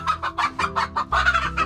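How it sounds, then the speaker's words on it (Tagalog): A brooding hen in a backyard gives a run of rhythmic clucks, close and fairly loud, short repeated bursts with brief gaps, ending in a slightly longer throaty call. "ba't manok na naglilimlim dito?"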